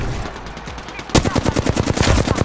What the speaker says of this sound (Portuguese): o cara tá na vida atirando